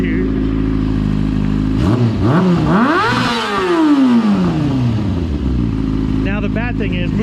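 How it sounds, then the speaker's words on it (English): A motorcycle doing a burnout on macadam idles, then revs hard into a rising, screaming whine that slowly falls away, loud and close, with a voice talking toward the end. "Zach's first ever burnout"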